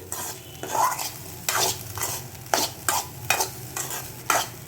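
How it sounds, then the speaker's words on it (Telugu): Egg fried rice with soy sauce being stirred in a pan, a sizzling fry bed broken by about eight regular scraping strokes of the spatula, close and moderately loud, with no talking. "ఇప్పుడు మొత్తం బాగా కలుపుకుందామండి."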